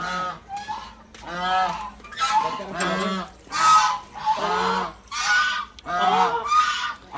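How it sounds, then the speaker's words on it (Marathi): Ducks at the Vajreshwari temple grounds give a steady run of loud, nasal, honking quacks in close overlapping bursts, about ten calls over seven seconds, with no voices over them. "बदका कशी आणतो"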